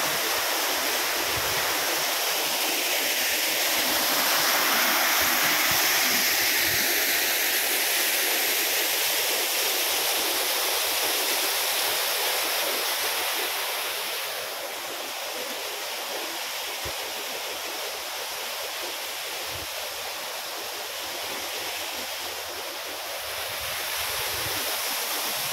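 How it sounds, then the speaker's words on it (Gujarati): Water from a pump motor gushes back into a farm field, a loud, continuous rushing roar heard up close, dropping slightly in intensity partway through with no talking. "આ એક મોટરનું પાણી વાડીમાં પાછું જાય જો."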